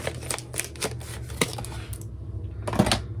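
Scissors snip rapidly along the side of a package in a quick run of crisp, close cuts, then pause before a final snip.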